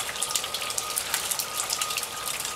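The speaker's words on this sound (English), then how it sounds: "This is the morning rain chain." Steady patter of water trickling and splashing down a rain chain, a continuous bright dripping wash with small irregular splashes, close by and with no voices.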